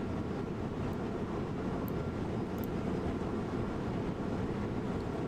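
A train rumbles steadily in the Train Sim World video game, on the Rhein-Ruhr main line between Duisburg and Bochum, with a constant low droning roar and no talk.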